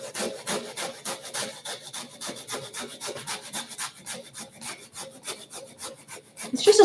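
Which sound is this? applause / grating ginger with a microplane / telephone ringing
grating ginger with a microplane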